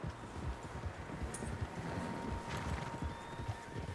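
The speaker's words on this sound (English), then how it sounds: "Horses, quite a few of them." Several horses trot in Red Dead Redemption 2, a steady mass of overlapping clip-clop hoofbeats close by, with a brief whinny and wind noise over the top. Nobody speaks.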